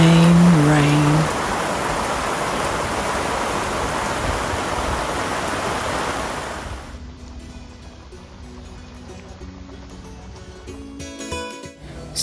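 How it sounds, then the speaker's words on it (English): Heavy rain pours down at Lachies Lookout near Port Hedland, a loud continuous roar that later thins to a quieter patter with scattered drips and rattles. "Then the heavens opened up. Rain, rain, rain."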